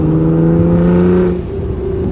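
Nissan GT-R R35 engine holding a steady high rev close by, then dropping off sharply with a brief release as the throttle closes; loud and alone, no talk.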